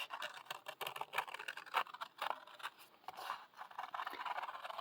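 Soft, close snipping and scraping of scissors cutting out fabric, quiet and irregular with short cuts and pauses.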